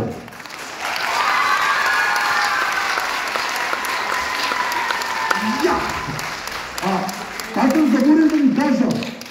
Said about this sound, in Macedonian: Ако успеам аплауз може да дајаме сега.